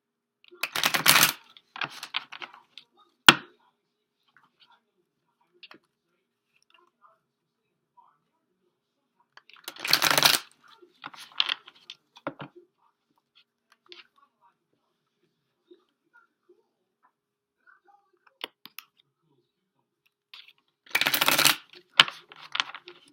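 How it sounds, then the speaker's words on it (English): Three bursts of tarot cards being riffle-shuffled, each lasting about a second, separated by quiet stretches with faint handling taps and soft murmuring. "we'll just shuffle these up a few times"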